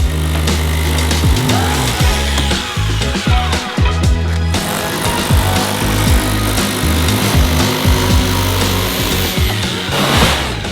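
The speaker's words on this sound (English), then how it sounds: "I used my jigsaw to cut it to size" Jigsaw cutting a shiplap panel to size, a loud, close, continuous buzzing saw with rapid reciprocating strokes and shifting pitch that runs throughout, with no talk.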